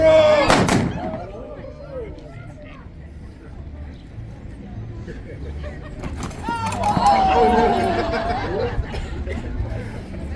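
Gunshots ring out in a staged Route 66 street gunfight in Oatman, Arizona, with one loud blast near the start and another burst around the middle, echoing outdoors amid crowd noise and actors talking.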